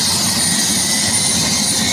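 A helicopter engine runs steadily before takeoff, giving a loud, continuous turbine whine and rotor roar close by that holds even throughout.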